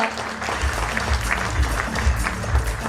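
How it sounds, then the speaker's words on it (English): An audience claps for an honoree at a felicitation ceremony, a steady round of dense applause with no voices over it. "Give him a huge round of applause."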